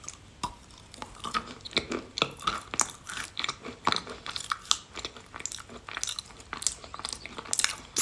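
Close, crisp chewing and biting of wet red chalk, with irregular crunchy bites and squishy mouth sounds continuing steadily without speech.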